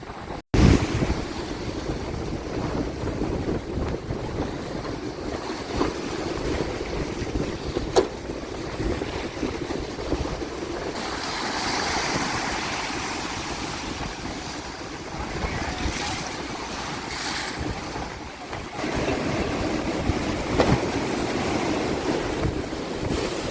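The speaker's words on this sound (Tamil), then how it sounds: "இந்த கடலுன்ற அலையை வந்து அடிக்குது" Rough sea waves surge and crash onto a coastal shore during a disaster, a continuous roaring wash heard close up, with heavy wind buffeting the microphone throughout.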